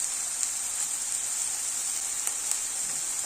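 Tomato coulis hits a hot pan of frying minced meat, setting off a steady, bright sizzle that hisses evenly throughout with faint crackles and no voices.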